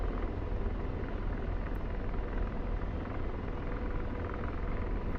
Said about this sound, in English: That Chinook does look cool. I want to get a look at it